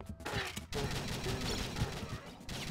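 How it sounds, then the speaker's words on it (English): Dense, continuous gunfire and explosive crackle from a shooter game played on Apple TV, a busy, noisy barrage with brief dropouts. "So as soon as you start firing, it starts shooting at the bad guys."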